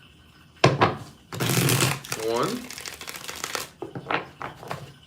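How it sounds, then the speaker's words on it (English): Tarot cards are shuffled with a brief crisp riffling burst mid-clip, close by, with a voice speaking before and after. "Let's get 3 shuffles here."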